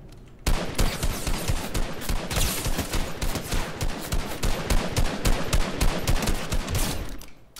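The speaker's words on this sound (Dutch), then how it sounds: "Ik hoor die beneden weer schoten, jongens." Rapid bursts of gunfire from a Fortnite match, dense machine-gun-style shots rattling continuously and loudly for several seconds after a sudden start, then cutting off.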